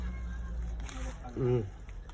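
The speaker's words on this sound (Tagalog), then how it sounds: "Ayan na naman kayo mga pusa kayo." A cat gives a single short meow amid a background hum while people talk nearby during homemade fish sauce bagoong preparation.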